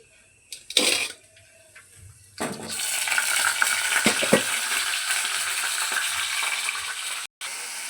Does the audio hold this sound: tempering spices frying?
yes